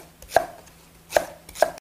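A kitchen knife slicing green onion stalks diagonally on a cutting board, three crisp, close chops spaced evenly apart, with nothing else heard.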